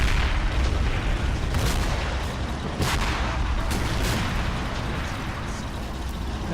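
Explosions and heavy gunfire rumble in the Men of War: Assault Squad 2 battle game as an enemy tank is destroyed, a dense continuous low roar with several sharper booms punching through.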